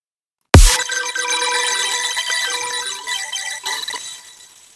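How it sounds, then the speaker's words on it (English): A bright, rapid sped-up marimba loop repeating quickly after a sudden start, dense tinkling notes ringing on and slowly thinning out. "marimba loop and I sped it up really fast"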